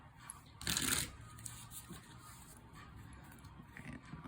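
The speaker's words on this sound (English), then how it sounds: "And do a good little shuffle here." A deck of tarot cards is shuffled by hand: one loud, crisp riffle burst up close, followed by softer rustling and tapping as the cards settle.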